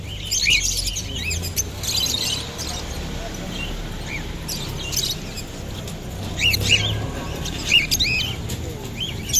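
Caged violet personata lovebirds chirp in repeated short, bright calls over a low rumble of background noise, with a voice speaking nearby through the stretch.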